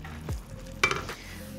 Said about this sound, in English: So now I'm going to go in and add my tofu. And then I'm just gonna stir it to coat.